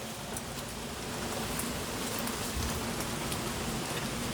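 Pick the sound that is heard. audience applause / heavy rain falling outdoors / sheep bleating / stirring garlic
heavy rain falling outdoors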